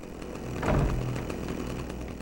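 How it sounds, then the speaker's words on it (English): A chainsaw revs in the video game Manhunt, a brief buzzing surge that swells and falls back to a rough, idling drone at moderate loudness. "we got to rampage around with a chainsaw"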